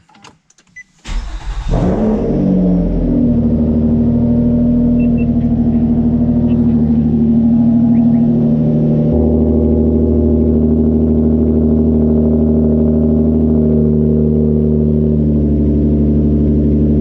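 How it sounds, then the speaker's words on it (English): A 7th-generation Nissan Maxima cold start: the engine cranks and catches after a brief quiet start, then settles into a steady, loud idle with a deep rumble that continues to the end. "Let me get you guys a little cold start."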